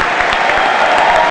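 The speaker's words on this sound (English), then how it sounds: "Graduates, applaud your supporters and friends and family." Graduates at an award ceremony applauding their supporters, a brief, loud burst of dense hall clapping that cuts off abruptly at the end.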